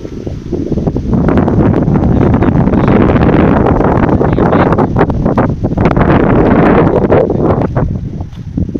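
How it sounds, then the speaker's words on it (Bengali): Strong wind blows across a village with betel nut trees, a loud continuous roar of gusts buffeting the microphone and rustling, with no speech. "এত সুন্দর বাতাস হচ্ছে, মানে বলে বুঝাতে পারবো না"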